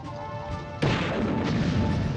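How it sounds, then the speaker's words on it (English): A bazooka shot strikes a tank in the Army Men: Sarge's Heroes video game, one sudden loud blast that cuts through a steady hum and then lingers as a dense, rumbling roar. "So tanks go down in 2 bazooka shots"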